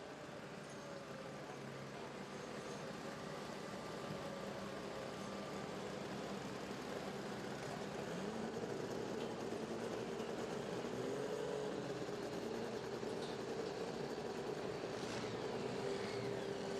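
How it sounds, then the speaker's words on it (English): An alcohol-fuelled tractor in the light limited superstock class roars at a tractor pull, a steady loud engine drone lasting the whole stretch and swelling slightly toward the end, set against open-air crowd ambience. "You can hear Harold Rydall right there with the Chicken Coop Special on that tractor running on alcohol right there"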